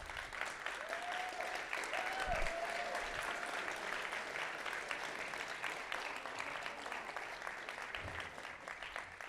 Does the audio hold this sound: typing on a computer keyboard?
no